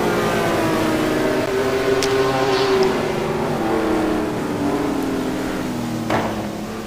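Lamborghini GT1 race car at Mugello in a sim racing game, a steady sustained engine drone heard from on board, fairly loud with a couple of brief sharp clicks.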